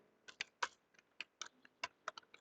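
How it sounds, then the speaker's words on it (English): Typing on a computer keyboard, about a dozen crisp, close key clicks tapped out in an uneven quick rhythm, quiet and alone with no talk. "If you just type like this, 2G spectrum"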